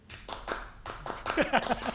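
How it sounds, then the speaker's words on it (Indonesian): A scout-style rhythmic clap pattern (tepuk pramuka) is performed during a podcast chat. Several sharp, close claps land in a quick patterned rhythm, with voices chanting along. "tepuk pramuka"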